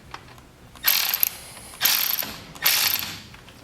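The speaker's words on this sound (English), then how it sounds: "Now we just need to remove this 7/16 bolt from underneath here." A ratchet wrench works a 7/16 bolt loose from underneath an antique Lawnboy edger, clicking in three distinct, close, loud bursts separated by short pauses.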